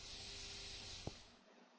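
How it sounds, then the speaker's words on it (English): A faint, soft sizzling hiss of stomach acid on meat runs quietly and steadily for a moment, with a tiny click near the end before it cuts off. "you could hear like a little sizzling sound."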